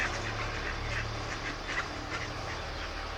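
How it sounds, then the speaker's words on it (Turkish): Rapid, repeated duck quacks chatter continuously over a low rumbling background, moderately faint. "Yabani ördeklerimiz var."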